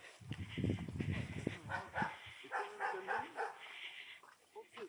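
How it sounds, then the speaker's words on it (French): Dogs bark and yip in a quick, close burst at feeding time, then fainter whimpers and yelps follow amid outdoor background noise. "nous allons accompagner JB pour nourrir les chiens"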